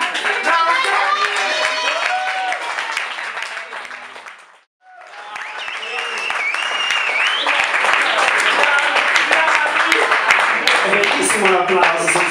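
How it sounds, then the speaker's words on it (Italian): At a live music showcase in a bar, an audience claps while voices talk over the applause. It fades to near silence midway, then builds back up to steady, loud clapping. "Un applauso senza aver fatto niente."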